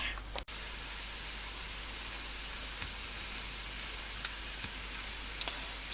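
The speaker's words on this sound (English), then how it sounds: "I'm frying them" Sweet potato chips frying in hot oil, a steady, fairly quiet sizzling hiss with a few faint pops and a brief knock near the start.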